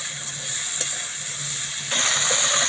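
Okra and spices with turmeric frying and being stirred in a pan, a steady close sizzle and hiss that jumps louder and brighter partway through as the stirring picks up.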